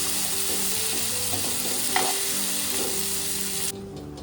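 Roasted eggplant bharit being mashed with coriander and salt using a glass, a continuous wet squishing and scraping with a few sharper clicks, close and fairly loud with no talk.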